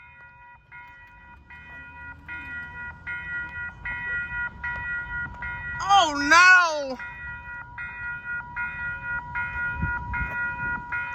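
South Shore double-decker commuter train sounding a long multi-tone horn at a road crossing, with a rising and falling blast midway over steady bell clanging and rumbling wheels, while people talk excitedly nearby.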